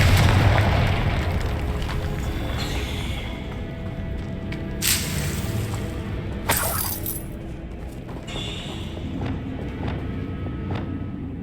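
Confringo explosion spell in Hogwarts Legacy, loud bursts and crackling impacts over dense continuous game ambience, with a couple of sharp blasts standing out.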